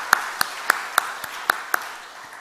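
A church congregation applauds to welcome a newcomer at a Sunday service. Seven or eight sharp, evenly spaced claps ring out in a brief, modest burst and then fade.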